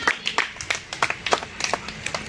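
Children's hands clap at a village game in Punjab, a quick uneven run of sharp claps, close and moderately loud, with no voices over them.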